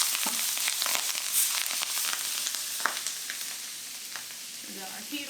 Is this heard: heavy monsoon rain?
no